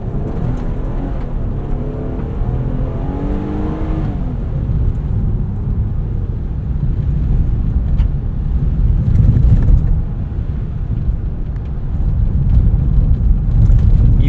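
A 2023 Nissan Pathfinder Rock Creek Edition rumbles over a washboard dirt road, its engine and tires giving a steady, rough low drone from inside the cabin with rising and falling intensity; no one speaks.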